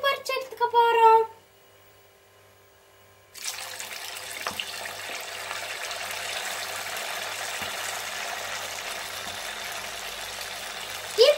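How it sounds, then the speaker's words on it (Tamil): Urad dal vada drop into hot oil and fry with a steady, even hiss. A short stretch of talk comes first, then a quiet pause before the frying sound begins. "இப்ப நம்ம ஒரு ஒரு வடைய போட்டு பொரிச்சு எடுத்துக்க போறோம்."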